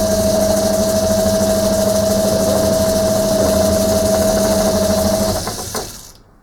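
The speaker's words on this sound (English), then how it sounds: "no way I'm going to speed the lathe up on this one." A lathe at slow speed turns an off-balance scotch yoke part, giving a loud, steady mechanical hum with a droning tone that cuts off near the end as the machine winds down into silence.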